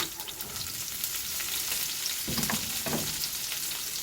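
Chilli flakes, green chillies and grated coconut are stirred in a hot pan for a shark fish fry, giving a continuous bright sizzle with a few louder scraping strokes near the middle, close and alone.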